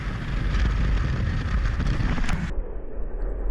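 Wind at sea over a sailboat at its mooring, a loud steady rushing buffet on the microphone that drops off abruptly near the end.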